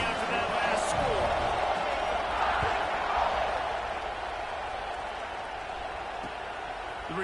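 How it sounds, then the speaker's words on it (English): College football stadium crowd buzzing after a score, a broad, steady roar of many voices with a few sharp thuds, while a commentator talks over it. "this crowd is buzzing after that last score"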